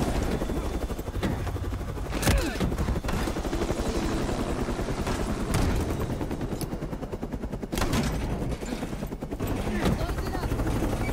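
Helicopter from the Black Ops 6 video game, its steady rotor drone churning loudly throughout, with bursts of gunfire and sharp impacts cutting in over it and some speech mixed in.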